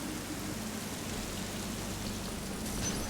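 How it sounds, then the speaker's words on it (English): Steady rain falls throughout a scene in the video game Metroid Dread, an even, hissing wash of drops that stays at a constant level, with no voices over it. "Why is it raining?"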